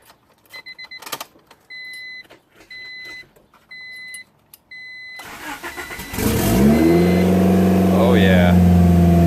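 A turbocharged car starting up: a run of rhythmic dashboard warning beeps, then the starter cranks and the engine catches, settling into a loud, steady idle close by.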